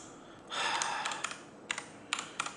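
Someone types on a computer keyboard at a desk, a brief burst of clicks followed by a few separate keystrokes, close and fairly quiet, with a soft breath at the start.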